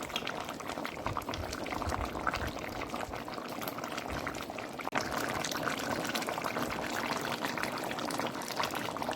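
Sweet potato and carrot being stirred into a simmering pot while cooking curry mutton, a steady loud bubbling and liquid churning with a brief disturbance midway, no talking.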